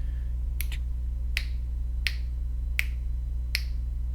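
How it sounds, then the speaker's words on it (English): Crisp finger snaps keep timing for an animation, six sharp clicks spaced evenly about every 0.7 seconds, close and clear over a low steady hum. "as I'm snapping my fingers"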